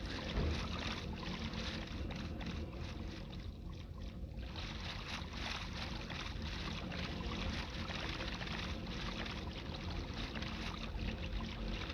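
A boat rowing across water in Minecraft Bedrock, a continuous rushing, splashing wash that stays steady and fairly loud throughout.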